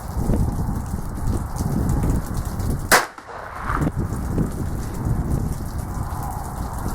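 A single sharp shot from a North American Arms Mini Mag revolver cracks out loud and close partway through, standing out above a steady rain-like background hiss.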